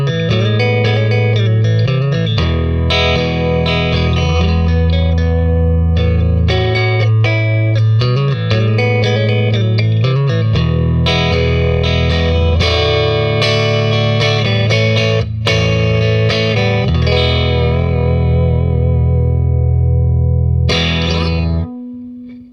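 A Jazzmaster-copy electric guitar fitted with Tone Hatch 2.5 Union pickups plays through an amp that is starting to break up, with loud, sustained chords and single-note runs carrying mild grit and some effects shimmer, and no talking over it.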